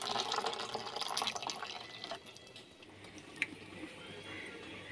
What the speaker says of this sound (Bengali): এর মধ্যে অল্প জল দিচ্ছি।